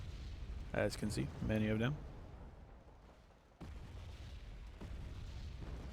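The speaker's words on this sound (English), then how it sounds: "that artillery strike was really good" Artillery explodes in the wargame Wargame: Red Dragon, with heavy booms landing after someone speaks briefly. The dull blasts are spaced apart and heard under steady background rumble.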